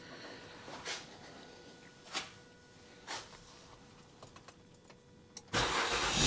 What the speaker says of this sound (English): let me start the car up again